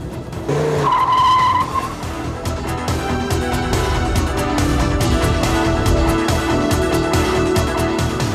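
A Viper race car running without oil in a desert endurance test skids with a sharp tire squeal, then a loud, continuous rough engine roar and scraping tire noise carry on without a break.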